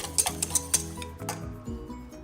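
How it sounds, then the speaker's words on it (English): Whisking red wine vinegar and fresh lemon juice together in a bowl for Caesar dressing: a quick run of close, bright metallic clinks and taps against the bowl, then softer stirring, with no talking. "And whisk it all together."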